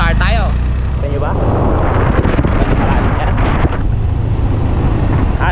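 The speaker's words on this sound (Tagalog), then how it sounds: "dalawang sakay Yamaha Fascio, palusong naman tayo, downhill naman." A Yamaha Mio Fazzio 125 scooter carrying two riders rolls downhill, its engine hum mostly buried under heavy, buffeting wind roar on the microphone while someone speaks over it.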